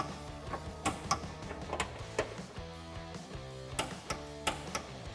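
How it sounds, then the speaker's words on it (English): A torque wrench snugs down sway bar bracket bolts on a 2005-2014 Mustang GT or V6 during a lowering spring install, giving sharp metallic ratchet clicks in uneven bursts over a steady tonal background. "now we can torque down our sway bar brackets to 52 foot-pounds with our torque wrench"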